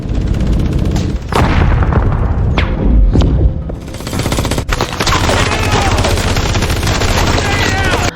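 Gunfire in an action film scene where soldiers are shot one by one, loud sharp shots and heavy booms over a dense, continuous battle din.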